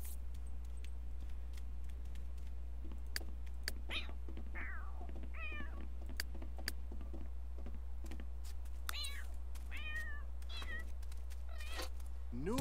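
A cat in the video game The Sims 3 meows repeatedly, short rising and falling cries scattered through the stretch over a steady low electrical hum, with occasional clicks and faint talk.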